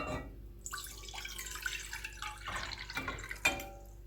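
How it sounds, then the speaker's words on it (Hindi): Two cups of plain water are poured into a pan for Kashmiri pink tea, a quiet trickling and splashing with a few drips, close and alone. "एक पैन मैंने लिया है, इसमें मैं 2 कप पानी डालूंगी"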